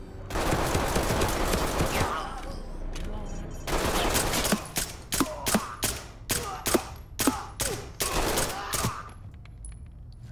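Gunfire in the tactical shooter Ready or Not: a long, dense burst of automatic fire followed by a rapid string of separate, sharp shots, loud and close, with voices talking faintly underneath.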